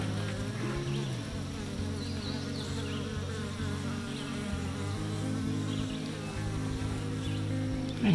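Honeybees buzz continuously at close range in a sparsely populated hive, a steady droning hum with shifting tones as individual bees move, no voices.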